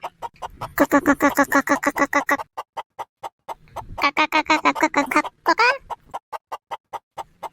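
Hens cluck in rapid rhythmic bursts, two dense runs of calls with steady pecking-like taps throughout, close and fairly loud.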